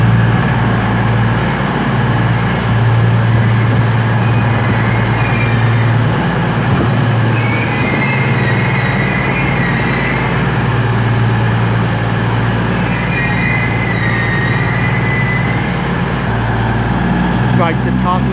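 A Virgin Class 221 diesel train at Chester station, a loud continuous engine drone and idle rumble lasting throughout with station ambience around it.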